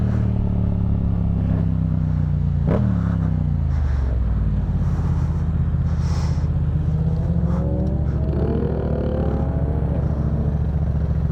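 A motorcycle engine idles and revs nearby, with a sharp rise in pitch early on followed by a steady low drone, and no talking.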